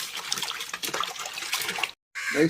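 Water splashing as raw chicken is washed with salt and flour, a broadband gush with irregular sloshing and handling noises, close and fairly loud, broken by a short silent gap before more running water.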